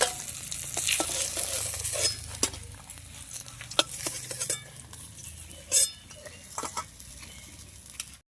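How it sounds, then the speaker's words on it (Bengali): Katla fish frying in hot oil in a pan, a steady low sizzle with scattered sharp spatters and crackles, plus a few clinks of a utensil against the pan; no talking. "মাছটা ভালোভাবে লাল লাল করে ভেজে নেবো বন্ধুরা মাছটা ভাজা হয়ে গেছে"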